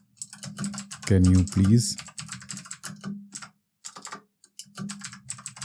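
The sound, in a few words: typing a message on a computer keyboard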